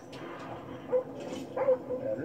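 Video game dogs on an Xbox let out two short barks or yips, fairly faint and heard among people talking.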